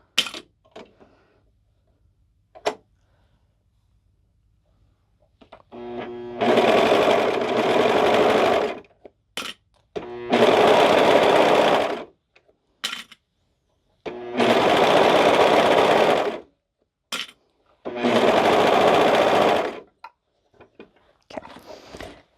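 A sewing machine stitches the seams of a knit butterfly cardigan in four steady, loud runs of rapid whirring, separated by pauses with small clicks and handling sounds.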